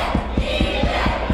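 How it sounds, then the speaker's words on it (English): A wrestling crowd at the Nile Theater roars and chants loudly, with rhythmic rapid stomps or claps pulsing about four times a second under the sustained crowd noise, close and alone. "Crowd soundly behind EJ, trying to urge the former champion to get back into this thing."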